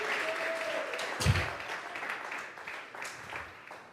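A church congregation claps as an offering to God, giving continuous, fairly soft applause that rises slightly before it thins.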